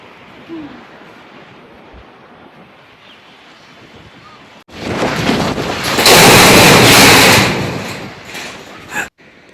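Strong wind at a hilltop viewpoint buffets the microphone with a low roar that swells suddenly halfway through, growing loud and rumbling before cutting off near the end.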